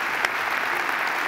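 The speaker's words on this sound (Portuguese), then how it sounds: "Vamos aplaudir a Jesus?" A church audience claps together in a dense, steady burst of applause that is loud and fills the hall for the whole moment, with no talk over it.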